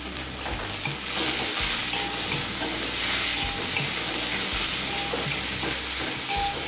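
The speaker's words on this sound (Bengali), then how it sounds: "এবার টমেটো নরম হয়ে আসা পর্যন্ত ভেজে নেব।" Chopped tomato frying with onions in a pan, a loud continuous sizzle close by, broken by occasional scraping stirs and soft clanks of the spoon against the pan.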